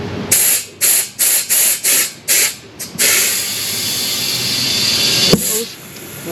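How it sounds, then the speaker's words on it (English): An air compressor inflates a car tire to seat its bead during a TPMS sensor install. Loud, close bursts of air come first in a quick rhythm, then settle into a long steady hiss broken by one sharp pop near the end. "Put the air compressor on it."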